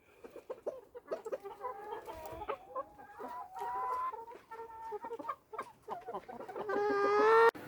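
Backyard hens cluck steadily and close by, a run of short repeated clucks and calls that grows louder and more insistent toward the end, with no talk over them.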